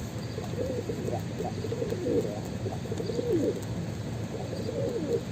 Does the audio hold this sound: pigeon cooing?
yes